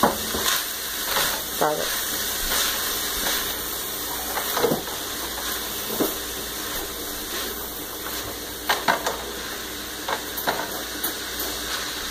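Green peppers, onions and red peppers sautéing in oil for beef enchiladas give a steady, close sizzle with scattered scraping stirs of a spoon, while a voice speaks briefly over the cooking.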